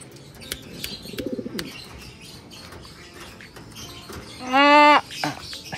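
Pigeons, including a Taiwan hen and a male bird, give a soft low cooing burst early on and then a louder, close, rising call near the end, with faint rustling and fluttering between them.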